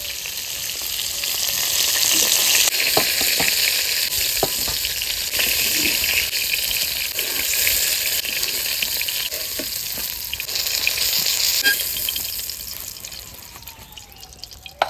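A fish tail and head fry in hot oil with loud, continuous crackling and spattering that swells and eases, then fades toward the end, with no talking.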